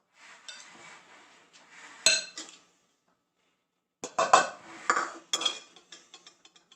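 A spoon scraping and clinking against the bottom of a cast iron pan while crumbly brownie mix is stirred, in short irregular bursts with a pause in the middle, close and fairly quiet.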